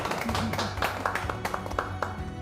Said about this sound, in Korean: 우리 서로를 위해서 박수 한번 치겠습니다